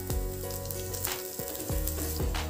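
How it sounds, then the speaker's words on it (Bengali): Cumin and coriander powder fry in a pan for a green pea kachori filling, a brisk hiss of hot oil heard under background music. "এবার এতে হাফ চা চামচ মতো জিরা ও হাফ চা চামচ মতো ধনে গুঁড়ো দিয়ে দেব।"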